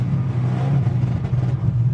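A Chevrolet Camaro engine held against a GPI two-step limiter at 5,000 RPM gives a loud, close, steady droning rumble with slight wavering pulses, and no voices.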